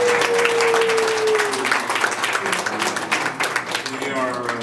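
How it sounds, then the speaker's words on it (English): A crowd gives a big round of applause for the US women's soccer team: dense, steady clapping that fades slightly toward the end, with a voice briefly audible over it. "can we get a big, big round of applause for Women's USA Soccer?"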